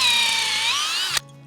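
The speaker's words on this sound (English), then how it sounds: "We like to use a nice sharp drill bit so it doesn't chew up the inside of the tree" A sharp drill bit boring a tap hole a couple of inches into a maple tree, a steady close whining drone that ends abruptly as the bit is pulled out.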